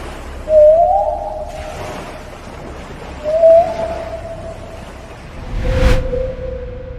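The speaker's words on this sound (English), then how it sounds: "several gray whales talking to each other, and the unsettling, otherworldly sounds can be heard as if amplified through a loudspeaker" Gray whales calling to each other, with three rising moaning cries spaced a few seconds apart over steady underwater hiss, sounding amplified and fairly loud, the last call lower and more drawn out.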